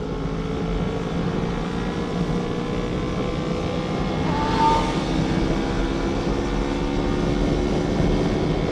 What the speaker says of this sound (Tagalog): So sana naririnig nyo yung exhaust niya. Hindi siya sobrang ingay, sakto lang.